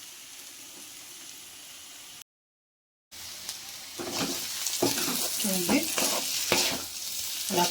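Chicken liver frying in a pan: a steady hiss, a brief dropout, then a louder sizzle with repeated scraping stirs, close up and without talk.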